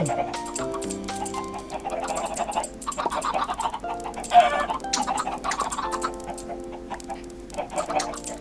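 Minecraft chickens cluck in short repeated bursts under game music and background sounds, with a louder cluck near the middle.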